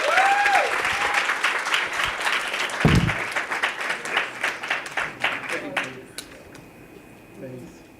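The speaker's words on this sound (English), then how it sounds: "If we can give him a round of applause" An audience breaks into a round of applause to welcome business speaker Jeff Hoffman to the stage, loud dense clapping that thins out and fades toward the end.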